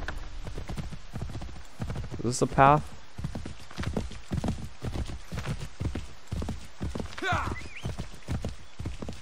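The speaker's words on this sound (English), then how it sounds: "I have a horse." Horse hooves clip-clop in a steady, even rhythm through the Assassin's Creed 3 video game, a moderate pace with a couple of brief whinnies, while a man asks a question and speaks over it.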